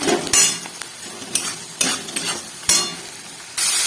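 Vegetable curry frying in a pan while a spoon stirs it, a loud close sizzle punctuated by regular scraping strokes and clinks of utensil on metal.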